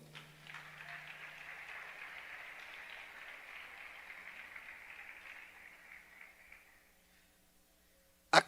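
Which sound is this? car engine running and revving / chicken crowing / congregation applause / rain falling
congregation applause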